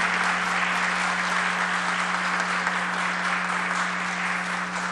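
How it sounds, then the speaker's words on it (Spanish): Sustained applause from a large audience at a farewell and swearing-in ceremony for Constitutional Court judges, steady dense clapping that stays loud and even throughout with no talk over it. "el doctor Milton Rey Guevara, a quien pido un aplauso, por favor, para él."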